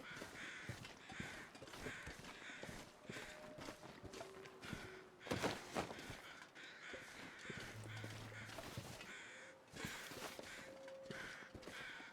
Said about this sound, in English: Hello, crows.